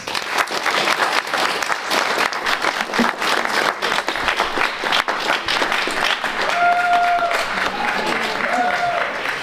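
Sustained audience applause at a political candidate forum welcoming a speaker, dense steady clapping throughout with a brief whistle-like tone near the end.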